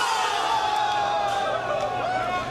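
Crowd at an air hockey tournament cheering and shouting in a steady, dense wall of voices, with whoops rising above the roar throughout.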